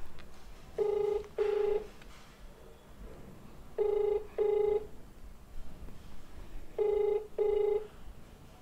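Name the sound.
phone ringing tone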